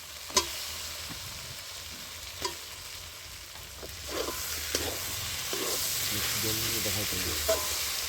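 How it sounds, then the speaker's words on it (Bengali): Chicken curry stirred in a pan after tomato goes in, a low sizzling hiss with occasional spoon clicks and scrapes, close and fairly quiet. "টমেটোটা দিয়ে আমি ভালো করে নেড়ে নিচ্ছি"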